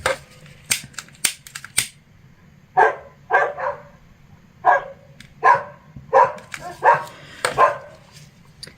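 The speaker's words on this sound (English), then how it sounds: "Apologies for the dogs." Several dogs barking outdoors at a distance, sharp repeated barks arriving in irregular bursts over a quiet low hum, some yelps clustered early and steadier single barks later.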